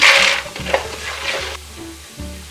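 Peanuts, mung dal and ginger sizzle and are stirred in a hot pan for lemon rice, a loud burst of frying hiss that settles into quieter crackling with scraping stirs.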